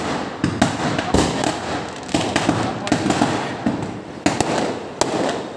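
Diwali firecrackers go off in a dense, continuous crackle, with many sharp bangs and pops at mid distance and voices talking underneath.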